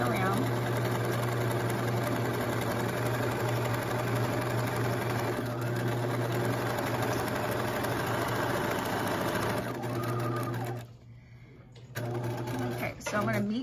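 A home sewing machine runs a continuous line of stitching around a romper seam, a loud steady mechanical whir that stops briefly near the end and then starts again, with a voice talking over it.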